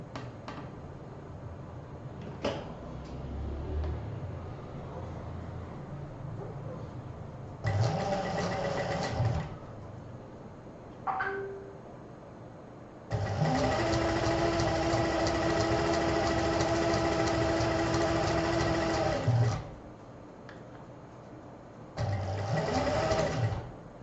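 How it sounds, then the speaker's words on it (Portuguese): A sewing machine stitches fabric pieces for patchwork rabbits, running in several steady bursts of a few seconds each, separated by pauses with handling sounds. "eu vou costurar aqui pra vocês verem como é que fica"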